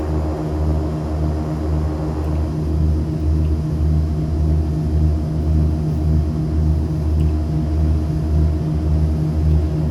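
A 690B Turbo Commander turboprop takes off in the X-Plane 11 flight simulator, its engines giving a loud, steady low drone with a rhythmic throbbing pulse that continues unbroken throughout.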